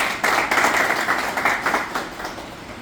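An audience at a college function claps to welcome a first-year student to the stage, a close, steady round of many-handed applause with a rhythmic, slightly pulsing texture that fades a little toward the end.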